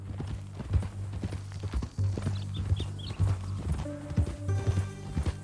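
Horse hooves clip-clop in Red Dead Redemption 2, a steady walking beat of hoof strikes against a low rumbling backdrop, with a few faint snorts or game sounds mixed in.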